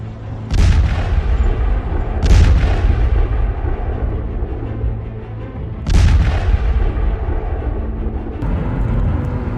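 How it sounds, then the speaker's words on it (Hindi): Three heavy, booming blasts from Russian guided aerial bombs in Sloviansk, Donetsk region, Ukraine, land at irregular intervals, each a loud low thud with a sharp crack on top, trailing off into a rumbling background between them. "रूसी गाइडेड एरियल बमों ने जबरदस्त धमाके किए"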